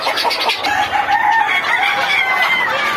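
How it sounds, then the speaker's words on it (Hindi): At a Sonali chicken breeder farm kept for egg laying, a rooster crows loudly and close by while hens cluck around it in a busy barn. "ये हमारा ब्रीडर फार्म है यहाँ पर टोटल अंडई वाला मुर्गी है"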